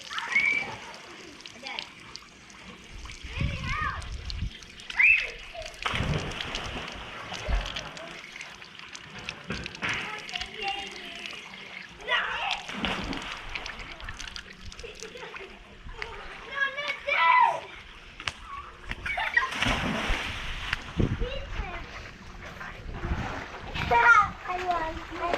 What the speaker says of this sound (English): I gotta wash my feet